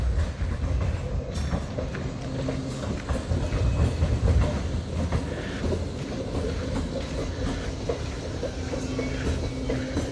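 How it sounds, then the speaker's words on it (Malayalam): A Trichy-bound passenger train rolls past close by on its way to Kanjikode station, a steady, loud rumble of wheels and rail clatter that holds for the full stretch with no pause. "ട്രെയിൻ പോകണ കണ്ടില്ലേ നമ്മുടെ അവിടെ."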